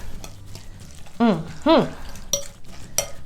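Bacon being stirred into a bowl of deviled egg salad: soft, close scraping and stirring with a few utensil clicks against the bowl and two brief squeaky tones partway through.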